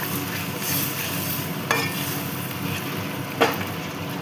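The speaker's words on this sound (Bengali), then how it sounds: "এবার একটু মিশিয়ে নিচ্ছি" A vegetarian curry of potato, pointed gourd and okra is stirred in a pan over a constant close sizzle. Two sharp knocks of the spatula against the pan cut through, and no voices are heard.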